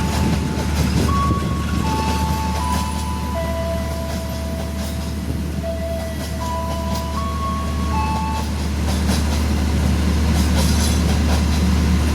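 A passenger train rumbles steadily past at a station, a continuous heavy roar with a series of sustained horn-like tones sounding over it.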